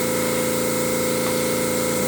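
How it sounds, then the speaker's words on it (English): A small compressor drives an empty air gun blowing across wet acrylic pour paint, a loud continuous hissing rush with a steady mechanical hum underneath. "I just use a little compressor and an air gun with nothing in it."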